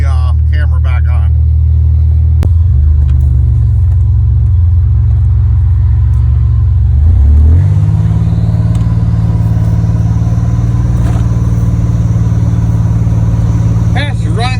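A Buick Grand National with a new engine drives along, its loud, deep rumble steady throughout and shifting pitch around midway as it pulls ahead, with people talking briefly at the start and end.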